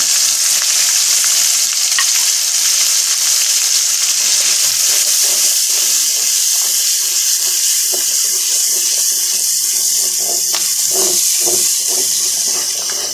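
Ground coriander, turmeric, red chili and salt sizzle in a hot pan while being stirred, a loud continuous frying hiss broken by scraping and occasional pops.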